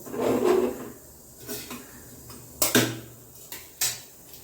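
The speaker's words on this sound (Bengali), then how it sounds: "ডিমটার মধ্যে সামান্য পরিমাণে লবণ দিয়ে এটা ফেটিয়ে নিলাম।" An egg with a little salt is beaten in a bowl. Scattered clinks and taps of utensil against bowl come in short, irregular bursts at a fairly quiet, close level.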